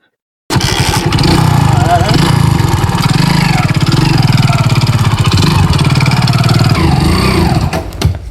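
A motorcycle engine runs loudly and close for several seconds after a sudden start, holding a steady throbbing rumble with slight revving variations before it tapers off near the end.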